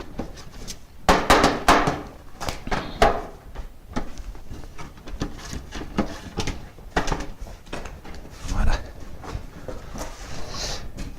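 A cooper's hammer strikes a driver to set the staves of a wooden barrel, producing a run of sharp, irregular knocks, some loud and close, others lighter, with wooden rattles between blows.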